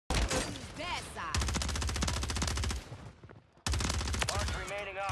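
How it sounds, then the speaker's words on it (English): Rapid bursts of SVA 545 automatic rifle fire in a Rebirth Island battle royale match, loud and close, firing in long sustained strings broken by a short pause, with other game sounds mixed in. "Somebody shooting me from outside."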